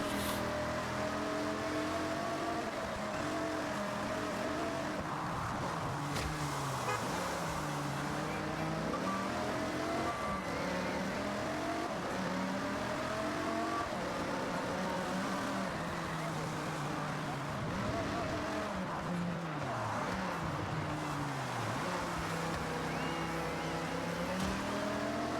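Dodge Viper GTS ACR V10 engine races in Forza Horizon, a loud continuous drone rising and falling through gear changes for the whole stretch while someone talks over it.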